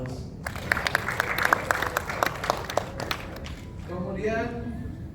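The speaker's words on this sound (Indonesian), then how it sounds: "Kita beri tepuk" Scattered audience clapping at a book launch event, irregular and fairly light, overlapping with a voice talking, with speech continuing at the end.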